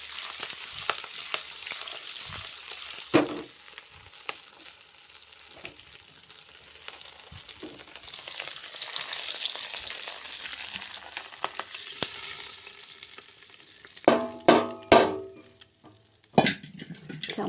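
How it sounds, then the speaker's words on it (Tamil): Hot tempering of pepper, cumin and curry leaves poured into venpongal sizzles and fries steadily, with stirring and a few sharp clanks of a pan and utensil near the end; no one talks. "அதில் வந்து இந்த தாளிப்பை வந்து கொட்டிடலாம்"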